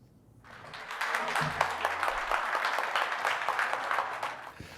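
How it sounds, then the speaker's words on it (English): Attendees at the Robbinsdale City Council meeting breaking into applause, clapping that starts after a brief quiet moment and continues steadily at moderate volume, with some low background noise underneath. "an applause."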